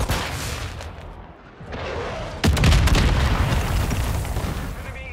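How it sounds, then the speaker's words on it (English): A flash grenade goes off in Call of Duty: Modern Warfare II, a sharp, loud bang cutting through the battle noise and rumble, followed by a roaring wash of combat sound, with voices calling out faintly in the mix. "Throwing flash grenade!"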